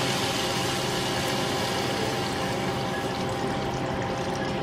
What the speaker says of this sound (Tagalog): Ngayon, lalagyan na po natin siya ng water.